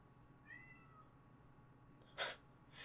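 A cat meows once, a thin rising-falling call that sits alone over faint room hiss, followed moments later by a short, sharp burst of noise.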